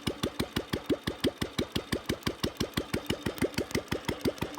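An old Bullet motorcycle engine runs at a steady idle close by, a regular thumping beat of about six firing pulses per second with no voices.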